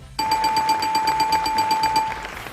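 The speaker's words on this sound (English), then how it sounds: "Let me press the buzzer now" Electronic buzzer pressed on a livestream, giving a steady tone with a rapid repeating beep pulse for about two seconds before stopping.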